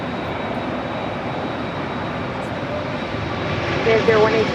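Steady broadband jet roar at LAX with an Airbus A380 airliner among the traffic, swelling slightly louder near the end, with faint voices in the background.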